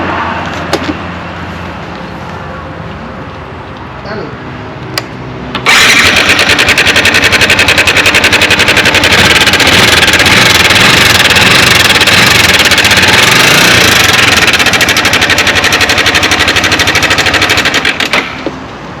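A faulty 2021 Exciter 155 VVA motorcycle engine idles roughly, then revs hard into a loud, harsh, rattling roar that holds steady before cutting back near the end.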